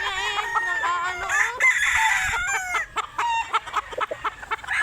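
Chickens cluck and a rooster crows up close, loud and overlapping, at a home where birds are being caught. Sharp clucks and squawks burst out in quick succession and then thin into scattered calls.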